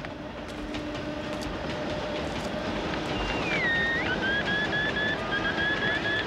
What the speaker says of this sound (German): Scheiß S-Bahn.